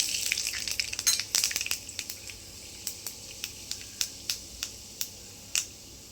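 Mustard seeds and fenugreek fry in a generous pour of hot oil for a Chettinad-style shallot and green chilli mandi, with a dense burst of crackling early on that thins to sharp, evenly spaced single pops.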